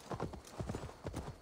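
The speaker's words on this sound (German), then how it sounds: "vorne verliere ich dich gleich eh, liebes Ferdi-Pferd. Dann kannst du auch noch mal ein bisschen Gas geben" Rhythmic horse hooves gallop in Assassin's Creed Valhalla, quick, repeating clusters of clip-clop beats, crisp and steady like a running horse.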